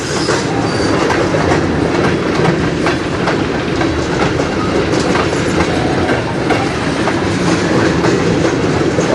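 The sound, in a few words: freight train of tank cars passing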